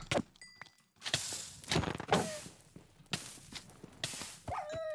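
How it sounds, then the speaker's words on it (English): Dogs barking in the video game Minecraft, several short game-sound barks and whines at irregular intervals, moderately loud, mixed with shuffling footstep-like noises and no talking. "Stupid dogs."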